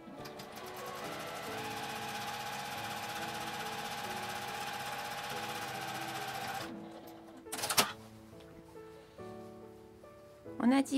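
A sewing machine stitches the divider seam on a fabric pocket lining, running steadily for several seconds. The motor then stops and a few short clatters and handling bumps follow, with no one talking.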